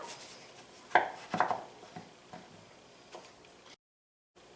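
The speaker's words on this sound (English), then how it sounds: "find a place to rest your knife and just push right through" A knife pushed lengthwise through a potato on a cutting board for gratin potatoes: a few close, sharp knocks and cutting taps, then quieter handling, then brief silence.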